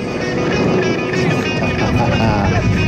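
An aerobatic airplane, a former Belgian champion aircraft, flies at the Beugin airshow in France, its engine droning loud and steady throughout with no pause in the roar.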